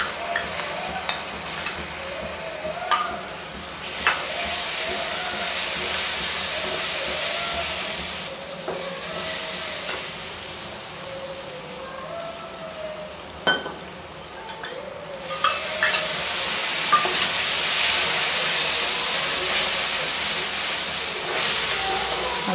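Spiced masala paste fries in hot oil in a pan for masala bhindi, a steady loud sizzle and hiss with intermittent scraping and stirring clinks of a spoon against the pan.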